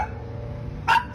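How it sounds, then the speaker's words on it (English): A dog gives one short, sharp bark near the end, rising out of a steady low indoor hum that fills the rest of the moment. "The dog just started fucking barking."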